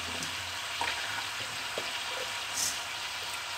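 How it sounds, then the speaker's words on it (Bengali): Red chili powder sizzles in hot oil in a pan for a steady, hissing fry with a few faint stirring clicks, close and constant throughout. "অল্প করে লাল মরিচের গুঁড়া দিলাম"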